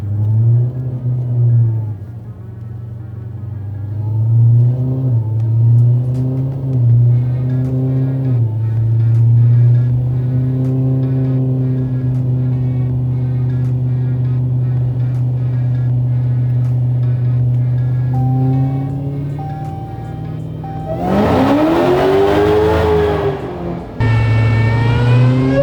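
A nitrous-equipped Dodge Demon revs hard on a chassis dyno. The engine drones loud and steady with rising and falling pitch, then climbs into a sharp, roaring sweep near the end. No one talks.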